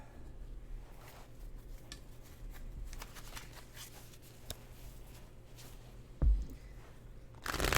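Tarot cards shuffled by hand during a live reading, a soft continuous papery riffling and sliding with a few sharper snaps, close and alone, ending in a brief louder burst.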